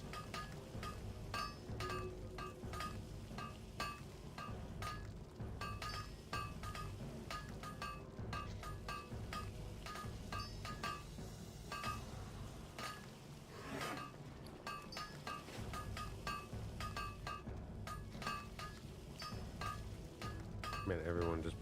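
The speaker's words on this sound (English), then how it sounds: "So much hammering going on around here." Blacksmiths in World of Warcraft Classic hammer away on an anvil, producing a constant busy stream of metallic clinks and rings from several sources at once, continuing steadily under game ambience and occasional talk.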